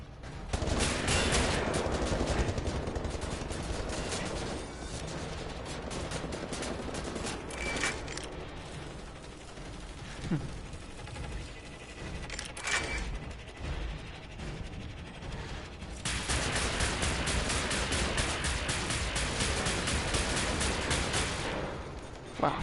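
Rapid automatic gunfire rattles in dense bursts during a Wolfenstein: The New Order firefight, loud and sustained with a brief lull mid-way before heavy shooting resumes.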